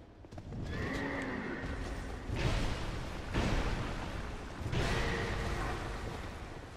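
A horse mini-boss in Dark Souls 2 whinnies and neighs loudly in several long, rough bursts, with stomping and swooshing game effects underneath and no talking.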